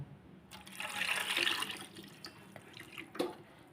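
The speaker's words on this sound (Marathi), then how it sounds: "आता गार पाणी आपण लगेचच ओतूया ह्याच्यात" Cold water poured from a tap onto freshly boiled eggs in a pot after the hot water is drained, a steady splashing rush that swells and then tapers, close and fairly loud with no voices.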